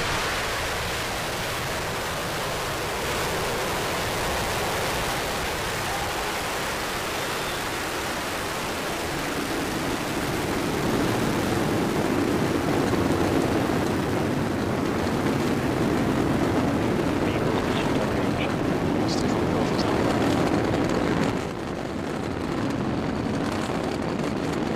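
Falcon 9 rocket ignition and launch, a broad, loud roar that holds steady and thickens in the low end midway through, with no voices over it.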